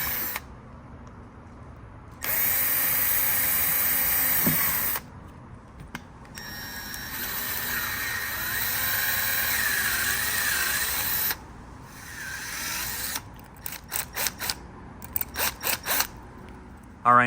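Drill with a small bit and then a uni bit cuts holes in a plastic puddle light housing, a loud whirring burst, a longer steady grind, then several short stuttering pulses close by.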